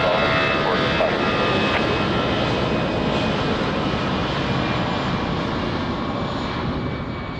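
An Airbus A320 jet at Lisbon Airport, bound for Brussels, roars loudly and close with a steady engine drone and whine, slowly fading slightly toward the end.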